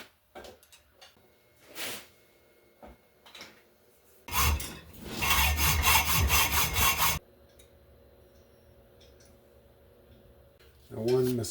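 A metal exhaust pipe being cut for a DIY dual exhaust on a Softail motorcycle: a loud, steady rasping saw burst of about three seconds, framed by quieter handling noises and soft talk.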